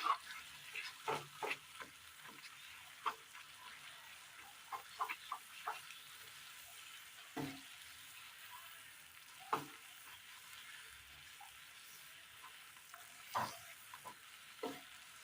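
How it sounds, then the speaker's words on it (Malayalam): A utensil scrapes and stirs fried raisins in a pan at an irregular pace over a soft, steady sizzle of frying. "നന്നായി ഒന്ന് മിക്സ് ചെയ്തെടുക്കാം."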